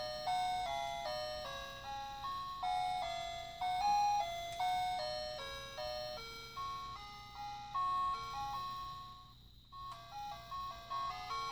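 A red toy musical bear phone plays a simple electronic chime melody resembling the nursery tune This Old Man, with steady bright beeping notes, close and fairly quiet, and no talking.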